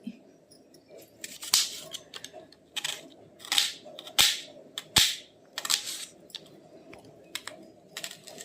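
A knife chops onions on a board in a Telangana-style home kitchen, with irregular sharp taps and crisp slicing crunches in uneven bursts, close and fairly clear against a quiet background.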